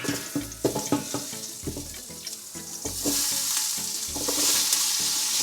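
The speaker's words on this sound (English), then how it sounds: "We just fry everything together." Meat and spices fry together in a big pot of bone broth, a steady bright sizzle underneath while a utensil stirs and clanks in repeated bursts, the frying hiss swelling louder toward the end.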